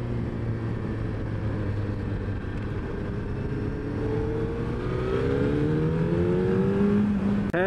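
A Suzuki Hayabusa 1300cc sport motorcycle engine pulls hard on a test ride at speed, its steady loud drone rising in pitch through successive gear climbs, with wind roar throughout and no talking.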